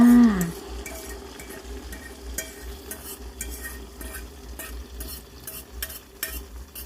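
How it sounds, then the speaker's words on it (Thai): Beaten eggs hit hot oil for a Thai omelette with enoki mushrooms and sliced chili, sizzling softly while a utensil scrapes and clinks against the pan in scattered taps. "น้ำมันร้อนได้ที่แล้วก็ไข่ที่เตรียมไว้ ใส่ลงไปเลยค่ะ"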